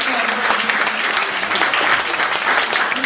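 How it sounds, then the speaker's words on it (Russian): Loud, dense audience applause at a humor festival, continuous clapping from a large crowd filling the whole stretch without pause. "Давайте под ваши бурные аплодисменты"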